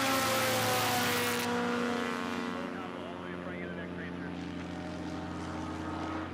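A propeller racing aircraft at the Reno Air Races drones loudly at first, then its steady engine note fades with distance, under a commentator's continuous talk.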